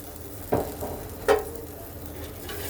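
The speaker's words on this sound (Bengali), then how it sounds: "এখন আমি এর মধ্যে দিয়ে দেব ঝোলের জন্য জল এই আমি দিয়ে দিলাম ঝোলের জল" Water poured into mustard masala frying in a pan for a Bengali pabda fish curry: a steady sizzle with two sharp splashing bursts of liquid hitting the hot oil, close up and with no talk.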